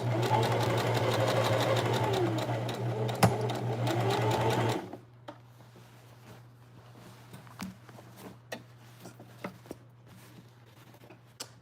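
A sewing machine stitches a denim jacket made from repurposed jeans, a loud steady motorized whir for several seconds that stops abruptly, followed by quiet handling clicks and taps.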